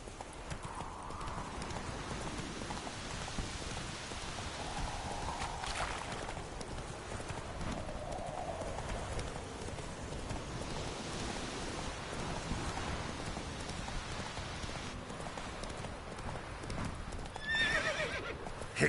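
Roach the horse gallops in The Witcher 3 with steady, rhythmic clip-clop hoofbeats close by, over a constant wash of rain, a whinny surfacing partway through.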